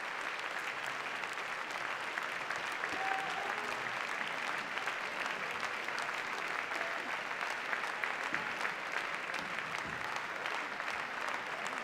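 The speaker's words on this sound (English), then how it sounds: "Lots of applause, please." Sustained applause from a large audience at a professional Latin dance competition in the UK, a dense steady clatter of clapping that fills the whole stretch at even loudness with no talk over it.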